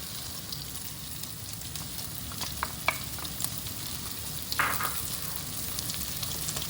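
Onion going into a pan of rendered bacon fat, a steady close sizzle and hiss of frying with a few light scrapes and clinks of a utensil against the pan.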